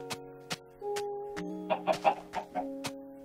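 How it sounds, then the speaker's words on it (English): Blocky video-game chickens in Minecraft on Xbox 360 give a series of short clucks in quick succession, with sharp percussive clicks spaced out across the scene, no speech. "Oh, chickens."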